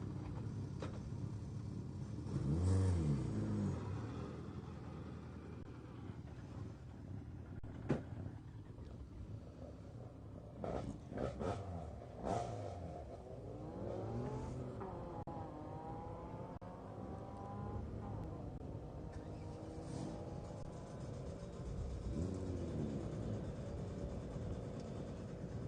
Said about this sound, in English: That's Daniel Jones taken to the line in the Peugeot 106.